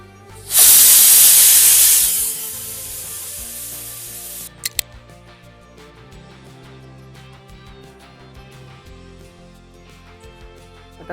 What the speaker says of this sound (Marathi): आता हे कुकरला लावून 4 शिट्ट्या काढून घ्यायच्या.